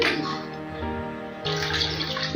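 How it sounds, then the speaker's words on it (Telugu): Water pours steadily into a vessel of buttermilk batter for jowar roti nearby, the gurgling pitch shifting as the container fills. "మరీ ఎక్కువ పోసేయకండి నీళ్ళు"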